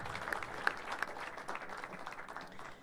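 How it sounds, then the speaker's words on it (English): Round of applause for panelists at the Africa Climate Summit, a steady wash of clapping from a hall audience, fairly distant and soft, with a few sharper claps near the start. "A round of applause, ladies and gentlemen, please, for our panelists."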